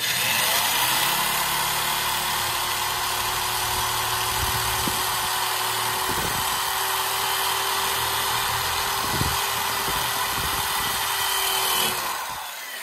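A power drill boring axle holes through wooden paint sticks, a steady loud whirring motor drone held for about twelve seconds with a few brief clunks, then stopping.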